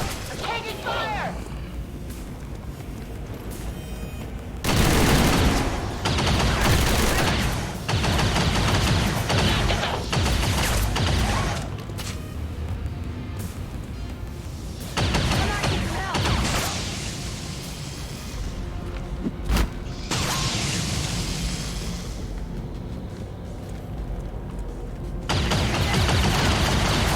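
Heavy gunfire erupts in XCOM 2 as a soldier caught in the open takes a full round of shots. Loud bursts and crashing volleys come and go across the stretch, with voices talking throughout.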